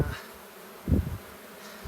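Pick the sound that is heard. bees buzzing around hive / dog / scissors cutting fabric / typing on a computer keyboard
bees buzzing around hive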